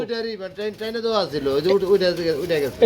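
Pigeons at a pigeon farm sale give loud, close, repeated throaty coos in rolling, wavering bursts.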